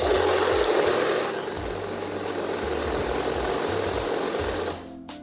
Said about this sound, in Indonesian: nanti setelah kita ambil itu akan jalan lagi uangnya, akan menghitung lagi per 100 lembar